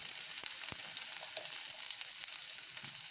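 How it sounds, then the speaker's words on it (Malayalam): Mustard seeds crackle and splutter in hot coconut oil under a lid, a dense, even, muffled sizzle with scattered small pops, fairly quiet and steady throughout. "അതിൻ്റെ അകത്ത് ഞാനിപ്പോൾ ഈ കടുക് പൊട്ടി പുറത്തോട്ട് പോകാതിരിക്കാൻ വേണ്ടി ഒരു മൂടി വെച്ച് മൂടണുണ്ട്."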